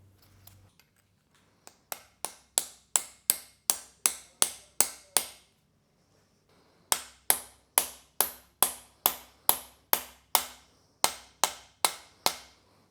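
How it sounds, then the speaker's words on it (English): Thin metal shims are tapped into a Ford Focus ST engine block with an aluminum block, giving sharp, evenly spaced light knocks in two long runs of about a dozen strikes each, separated by a short pause. No speech is heard. "This is a special aluminum block where I tap them in with"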